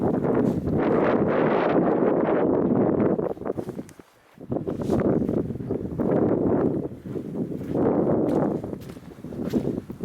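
Gusty wind on a hillside walk up Moel Siabod in Wales batters the microphone in loud, rough surges, dropping briefly to near silence before roaring back in waves.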